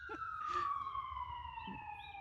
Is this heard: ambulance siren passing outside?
yes